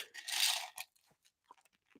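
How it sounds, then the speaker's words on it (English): Crunchy Sanctuary nuggets chewed close to the mic: a dense burst of loud crunching, then a few quieter scattered bites and chews trailing off. "Now I'm over here chewing"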